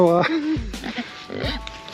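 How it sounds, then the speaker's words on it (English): Idaho Pasture Pigs grunting and oinking close by on a farm pasture, several short squealing calls in quick succession at moderate loudness. "Trying to pet the pigs here."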